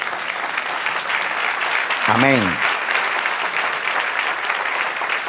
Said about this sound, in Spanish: Denle un aplauso al Señor, que se lo merece.